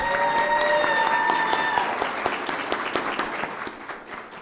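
Audience at a Rialto Unified School District board meeting breaks into steady clapping, fairly loud at first and thinning into scattered claps as it fades toward the end.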